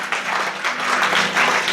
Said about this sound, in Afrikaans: Kan ons 'n hande klap vir die Here gee?